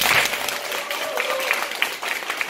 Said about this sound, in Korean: 우리 강문사님 박수 한번 부탁드립니다